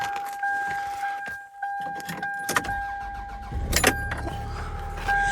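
A 1999 Toyota Camry fitted with an engine block heater cranks and fires up in sub-zero cold, a brief starter burst followed by a steady low idle rumble, close by with no talk.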